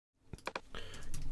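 Keys clatter on a computer keyboard in a short burst of quick, close taps, quiet at first and then denser, with no one talking.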